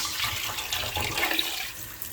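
Rice being rinsed under running tap water in a kitchen sink, a steady close hiss of flowing water with splashing and swishing as the grains are stirred, heard alone without talk.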